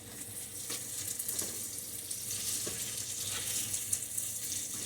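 Leftover boiled potatoes frying in a pan for a country breakfast, a soft continuous hiss and crackle heard close, with a few faint scrapes, no talking.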